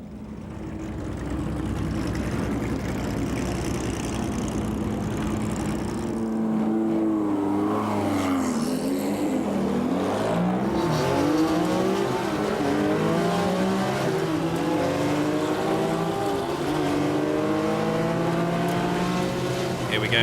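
A classic racing car from the 2004 Tour Auto, heard from on board behind Jean-Claude Andruet, idles and then accelerates hard, its engine rising through gears with a loud, continuous, close-up roar and no talk.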